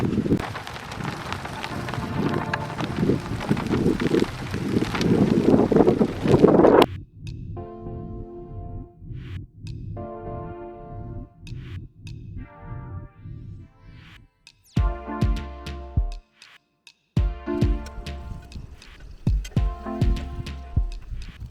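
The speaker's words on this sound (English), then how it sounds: "we've now got a storm rolling in and some welcome rain" A storm in Khwai, Botswana: a dense, loud rush of rain and gusting wind for several seconds, then quieter steady rainfall with rumbling and intermittent louder bursts of pattering.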